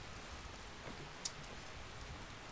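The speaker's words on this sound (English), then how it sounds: "what's the stream like with the rain?" Skyrim game rain falls as a steady, even patter with a soft hiss, quiet and continuous, with one faint tick partway through and no voices.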